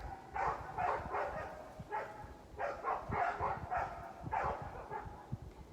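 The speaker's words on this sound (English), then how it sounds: "to hear those barking dogs" Several dogs bark in repeated bursts, spaced rhythmic volleys of mid-distance barking with a few higher yips, steady over a faint background hum and no talk.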